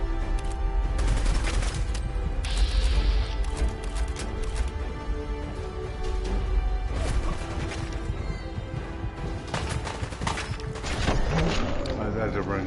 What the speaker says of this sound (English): Who's shooting up this dude?